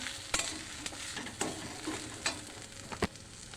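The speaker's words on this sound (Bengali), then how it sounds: "আর একটু বাদাম ভেজে দেবো" Peanuts frying in a pan, a low steady sizzle broken by several sharp stirring scrapes and clicks at irregular intervals, close and fairly quiet.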